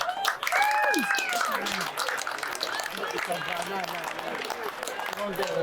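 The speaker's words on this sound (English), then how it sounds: "Keep the applause going, ladies and gentlemen." A crowd applauds at an awards ceremony for a sea angling competition, steady clapping that continues throughout while a voice speaks over it on a PA.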